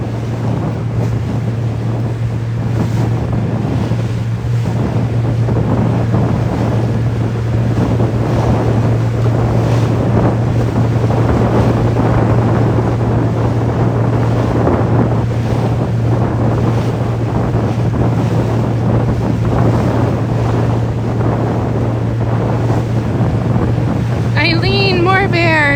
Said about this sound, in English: the wind was projected to be a lot calmer than she's turned out to be today